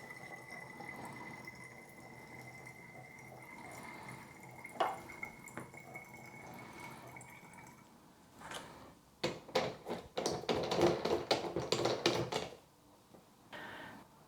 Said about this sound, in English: I'm going to go and get some water and fill it up